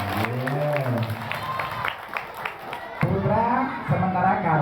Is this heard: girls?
yes